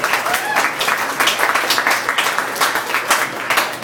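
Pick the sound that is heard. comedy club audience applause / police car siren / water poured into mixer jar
comedy club audience applause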